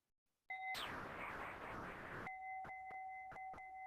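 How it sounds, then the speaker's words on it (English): A bell rings out clearly with a long sustained tone, followed by a few lighter, sharp strikes ringing near and loud. "listen to a wonderful sound of a bell"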